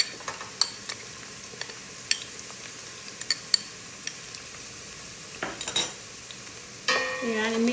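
Food being stirred in a frying pan for chicken kabsa, with scattered utensil scrapes and taps against the pan over a soft sizzle, growing into a louder, steadier sizzle near the end.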